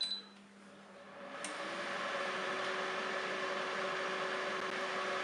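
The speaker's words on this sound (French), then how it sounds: "Il me suffit de rappuyer sur Start" A Cookeo multicooker starts up after a short beep and click, settling into a steady, faint mechanical whir with a soft fan-like hiss that runs on evenly.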